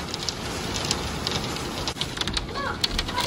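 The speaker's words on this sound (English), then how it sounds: "Look how big the hail is." Large hail pounds the ground outside in Calgary, Alberta, a dense steady patter with sharper individual impacts scattered throughout.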